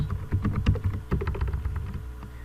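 Someone types on a computer keyboard with a quick, uneven run of close, clattering keystrokes that continues steadily for a couple of seconds, with no voices.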